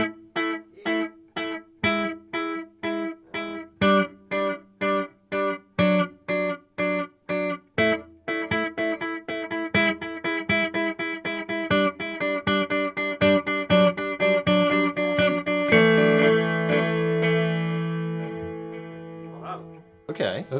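A guitar is played through the Magneto echo setting of a Strymon BigSky MX reverb pedal: rhythmic chords repeat in clear pulses, and the repeats gradually pile into a dense, ringing echo wash that swells and then fades away.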